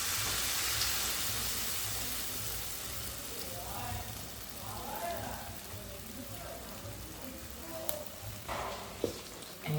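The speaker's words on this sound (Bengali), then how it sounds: "হাতের সাহায্যে ভালো করে ব্যাটারটা যাতে ডিমের উপরে লাগে দিয়ে তারপরে গরম তেলে দিয়ে দিব।" Batter-coated eggs frying in hot oil for dim sundori pitha, a dense, hissing crackle that is loudest at the start and eases slightly, with small clicks and pops near the end.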